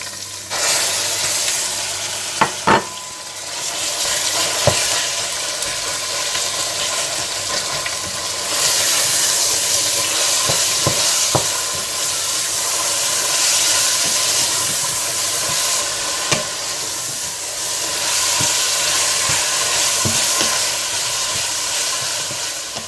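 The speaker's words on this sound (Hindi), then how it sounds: "पिसा हुआ अदरक लहसुन और कीमा डालकर अच्छी तरह से भून लें" Loud, steady sizzling of minced meat frying with ground ginger and garlic in a hot pan, with occasional clinks and scrapes of a spatula stirring throughout.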